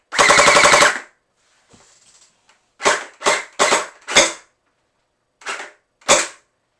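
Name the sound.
gel blaster HPG-700 shooting Orbeez gel balls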